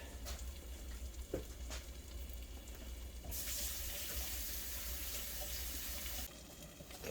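A kitchen tap runs in a steady broadband rush as hands are washed, starting partway through with a faint pan sizzling in the background before it and after it stops.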